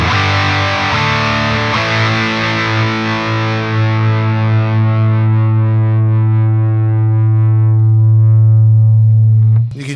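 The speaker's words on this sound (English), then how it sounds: "I'm just starting to get a little bit of feedback looping through the Strat." Stratocaster electric guitar through a DevTech Audio Skylight overdrive pedal with the gain up, a held distorted note swelling into sustained harmonic feedback that grows steadily louder before cutting off abruptly.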